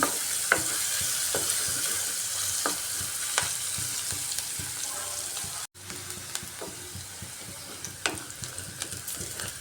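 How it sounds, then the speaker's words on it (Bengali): Onions frying in a pan until reddish, a steady close sizzle punctuated by regular scraping stirs of a spoon, one brief cut midway. "পেঁয়াজটাকে লাল লাল করে ভেজে নিচ্ছি"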